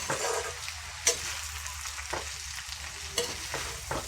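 Vegetables and spices frying in a pan over a medium-low gas flame sizzle continuously, with scraping stirs and a few sharp clicks of a spoon against the pan, close and without talk.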